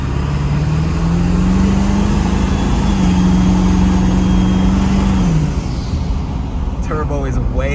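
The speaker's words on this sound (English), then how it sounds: "you can definitely hear that turbo a lot when you let off the gas and when you step on it" A stock 7.3 Power Stroke diesel with a Sinister intake pulls hard, its turbo whistle holding a steady rising whine over the loud engine drone before dropping away as the throttle lifts; someone talks at the end.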